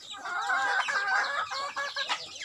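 Chickens cluck in quick, overlapping calls close by on a provincial farm, a busy flock sounding on and off with short pauses.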